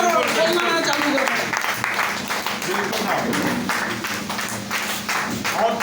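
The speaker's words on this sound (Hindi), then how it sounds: "और तेज जबरदस्त तालियां बजाइए, जबरदस्त तालियां" Audience applause in a hall, dense steady clapping heard close and fairly loud, continuing throughout with voices mixed in beneath it.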